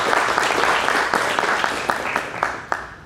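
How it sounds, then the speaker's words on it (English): An audience at a museum speaker-series talk claps, warm, dense applause that starts full and gradually thins out over a few seconds. "So a round of applause for Jack and Mickey"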